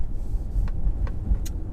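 Engine of a Mercedes-AMG GLC43 Coupe SUV, a steady low rumble with a few faint higher-pitched bursts on top, close and continuous with no talk.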